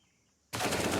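Automatic gunfire in a Counter-Strike match bursts in abruptly after a quiet half second, a loud sustained spray of rapid shots to the end.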